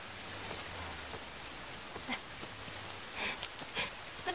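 Rain falls outdoors in a drama scene, making a steady, broad hiss with a few scattered louder drops and patters. It is fairly soft and continuous, with no clear voices.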